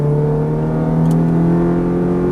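Ferrari F430 engine pulling steadily under throttle on a race track in Las Vegas, a loud, sustained in-cabin drone with strong harmonics and no speech over it.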